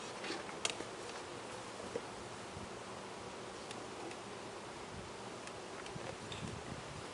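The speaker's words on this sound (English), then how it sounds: "Okay, good amount of bees." Honey bees swarm around an open hive during a summer hive check, a steady faint buzz running throughout with scattered light ticks and rustles of frames being handled.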